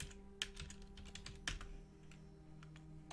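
Typing on a computer keyboard into the console of the space survival game Planet Nomads, a handful of soft, irregular key taps over a steady low background hum.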